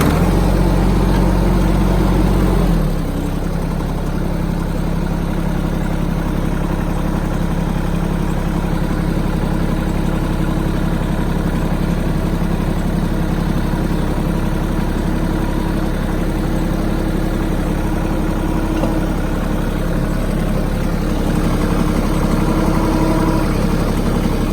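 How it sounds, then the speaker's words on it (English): Kioti compact tractor diesel engine cranks and catches in the first few seconds, then settles into a steady, loud, close idle with a low rumble and vibration, no talking over it. "Start the tractor up."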